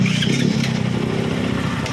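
A motorcycle engine brought back to the shop after nine months, running steadily after a start, close by with a low throbbing idle and no voices.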